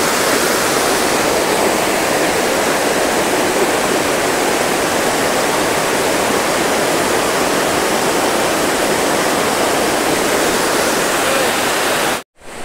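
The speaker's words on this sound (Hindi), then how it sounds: "हो सकता है कि झरने की आवाज़ थोड़ी लाउड और मेरा आवाज़ कम सुनाई दे" Kondhana waterfall near the Kondhana caves in Karjat roars in monsoon season, a loud, dense and unbroken rush of falling water close by that cuts off abruptly at the very end.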